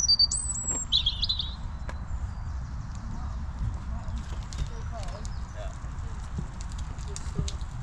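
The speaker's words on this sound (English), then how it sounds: "That's the bird that's making that lovely noise." Birdsong on an evening spring walk in nature in the UK, with a few bright chirps and whistles early on over a steady low rumble of wind or traffic, while someone talks nearby.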